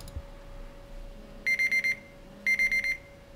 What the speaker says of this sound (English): apparently My alarm was not on silent. And that noise means it has been 40 minutes.